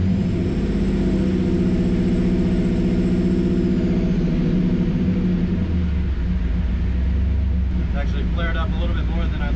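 A car engine running a Holley Terminator X tune rumbles loudly at a steady idle after a hot start, a deep continuous drone that dips slightly partway through, with someone talking over it near the end.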